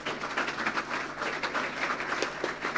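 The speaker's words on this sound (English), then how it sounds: "Let's give them a round of applause." Audience applause at a St Mary's College graduation ceremony, a steady dense patter of many hands clapping throughout, moderately loud and without talk.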